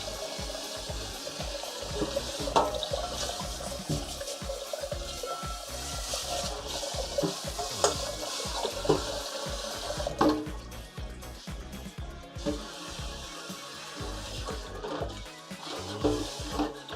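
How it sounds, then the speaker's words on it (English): Kitchen sink tap running steadily while dinner is cooked, a continuous close splashing rush with clinks and small knocks mixed in, with brief pauses near the middle. "Why are you making so much noise, Sink?"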